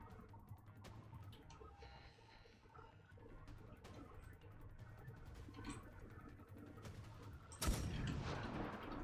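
Rockets are fired in the Paladins video game: a faint stretch of ticking, rattling game noise gives way to one sudden, loud whooshing blast near the end, with no talk over it.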